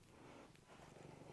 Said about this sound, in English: the purrs are out in full force